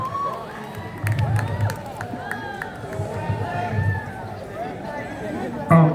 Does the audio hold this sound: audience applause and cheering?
yes